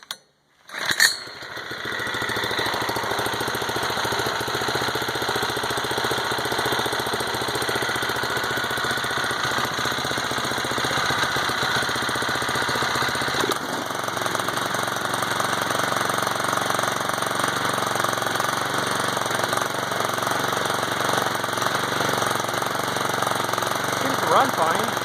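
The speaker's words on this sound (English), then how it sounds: "I'll give it a whirl here and see if it'll start up." A Predator 173cc small engine on a Snapper RT5 tiller is pull-started with a quick sputter. It then runs steadily and loudly close by with a rattling drone, and the tone shifts slightly about halfway through.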